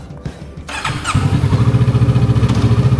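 A Kawasaki Ninja 650 twin-cylinder motorcycle engine cranks and catches, then settles into a loud, close, steady pulsing idle.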